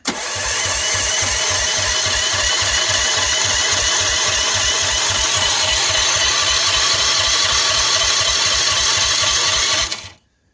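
A small gasoline engine, long unused and choked, catches and runs outdoors in a yard: a loud, rapid, even chug of low firing pulses that holds for about ten seconds before cutting off abruptly.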